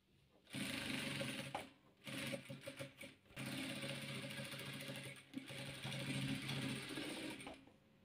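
A sewing machine stitching patchwork pieces together runs in several bursts of fast, even mechanical whirring and clatter, with short pauses between runs, close and fairly quiet.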